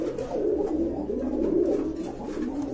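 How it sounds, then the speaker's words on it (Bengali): A steady, continuous murmur of cooing from a group of healthy pigeons kept for sale, dense overlapping throaty calls filling the whole stretch at close range. "কোনো মিসমার্ক নাই, ফুল ফ্রেশ কবুতর"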